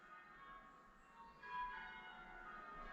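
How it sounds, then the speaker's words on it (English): Church bells ringing far off during a long peal, faint ringing tones drifting in over quiet background hiss, swelling slightly partway through. "I like to hear the church bells, but why have they been going on for the last half an hour?"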